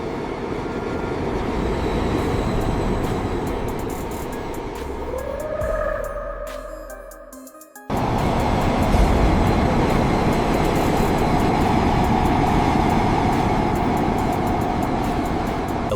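A train runs through Turkey's undersea railway tunnel linking Europe and Asia, a loud, continuous rushing rumble that fades and drops out briefly midway, then surges back at full, steady intensity.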